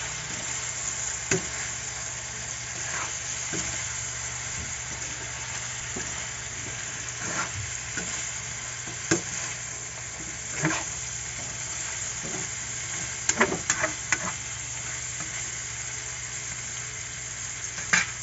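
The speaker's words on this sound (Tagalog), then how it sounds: "Haluin natin guys." Food frying in a pan sizzles with a steady hiss throughout, while a utensil stirs it with scattered scrapes and clinks against the pan, the knocks clustering toward the end.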